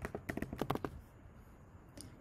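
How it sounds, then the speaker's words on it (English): Quick, light keystrokes on a computer keyboard in a short burst of typing, close and fairly quiet, then fading to near silence with one last faint tap. "Just type what you want it to say."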